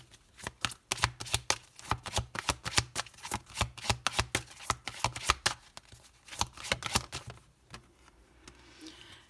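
A deck of oracle cards being shuffled by hand, with a steady run of close, crisp riffling flutters and soft taps that slows and fades toward the end, no talk over it.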